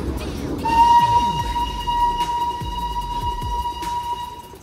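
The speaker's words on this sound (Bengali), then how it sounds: "টয় ট্রেন চলে এসছে এখান থেকে" A Darjeeling toy train's steam engine sounds a long, steady whistle that rings for several seconds over a rumbling background, with faint puffing and street noise around it.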